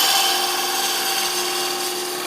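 A goblet stem spins on a wood lathe while a spindle roughing gouge shapes it, giving a steady, loud, close scraping whir with a constant motor hum throughout.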